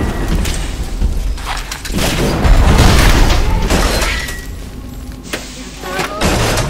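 Proximity mines explode in the video game Bioshock: a string of heavy booming blasts with shattering debris rolls through the clip, loud and close, peaking in the middle and returning near the end.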